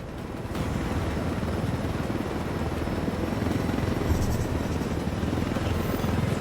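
A helicopter flies in Ghost Recon Wildlands, its rotor and engine making a continuous loud, rumbling chop that starts abruptly and holds steady throughout.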